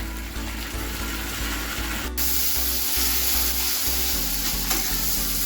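Onion frying in a pan with ginger, garlic and green chilli paste for Bengali mutton kosha hisses in a loud, continuous sizzle up close, with a brief stir or clank partway through and no talk.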